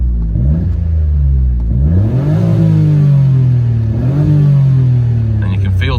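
A Citroen C1 with a custom-made exhaust and stock air intake revs hard, its engine climbing and falling in loud repeated surges that sit close and fill the whole stretch.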